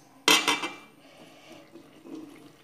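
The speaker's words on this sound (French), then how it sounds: "je vais pouvoir commencer à donc ajouter le lait tiède petit à petit jusqu'à ramasser la pâte" Warm milk is poured a little at a time into dough in a bowl, a short splashy burst of liquid followed by faint wet mixing and handling noises.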